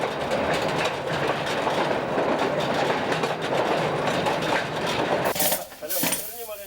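Rumbling train carrying miners to the coalface, a steady clattering roar of rail cars that fills most of the clip before the sound breaks up and fades near the end.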